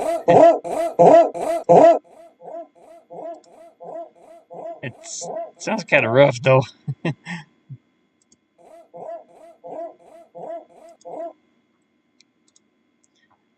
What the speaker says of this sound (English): this is a tiny Shih Tzu dog barking